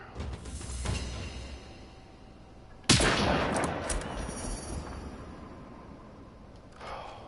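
Gunfire in the shooter Generation Zero: a sharp close blast followed by a crackling burst of shots that fades, with softer shots earlier and later over faint background noise.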